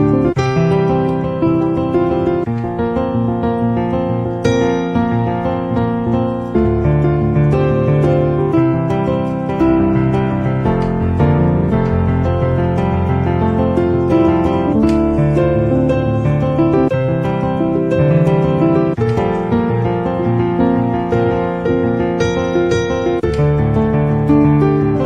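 A piano plays an intro built on flowing arpeggios, with broken chords rolling continuously and evenly at a steady moderate loudness, sounding alone without any talk.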